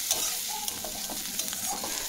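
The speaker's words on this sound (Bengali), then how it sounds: "পেঁয়াজ, আদা, রসুন আর কাজু বাদামটাকে একটু ভালোভাবে ভেজে নিয়েছি" Onion, ginger, garlic and cashews frying in a pan, a steady close sizzle broken by light scraping and stirring.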